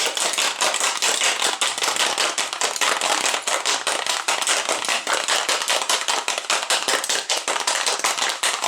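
A cocktail shaker filled with ice and gin rattles hard and fast, dense rhythmic clacking of ice against the metal shaker, loud and close, continuing without pause.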